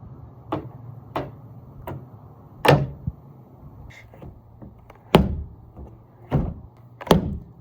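A loose fuel door on a 2010 Ford F-150 Raptor is worked by hand, giving about eight sharp plastic clacks and thunks at uneven intervals, close up, with no talking.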